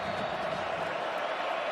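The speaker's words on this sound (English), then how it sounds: "the crowd noise right now is wreaking havoc with this offensive line" Steady roar of a college football stadium crowd during a Texas Tech–Utah game, a dense, continuous wash of massed voices with no clear breaks, loud and sustained as if heard from within the stands.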